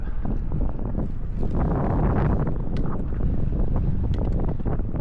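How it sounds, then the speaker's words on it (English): Strong wind buffets the microphone while cycling through coastal dunes in Holland, a loud, constant roaring rush with scattered gusty crackles throughout. "the wind was a bit of a problem for the first quarter of the ride"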